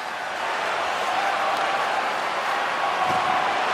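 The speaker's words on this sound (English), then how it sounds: "And the crowd's on their feet, saluting the team after a hard-fought effort this evening" An NHL 24 hockey crowd cheers and applauds at a Minnesota Wild home game, a dense, steady roar of clapping and crowd noise filling the arena at a loud, even level.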